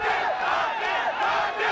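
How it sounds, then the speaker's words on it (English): Cricket stadium crowd at a Nepal Premier League match, Biratnagar vs Janakpur, a dense roar of many voices cheering and shouting, loud and continuous for the short moment with no break. "those in attendance are just cheering every single run as if it's a massive event"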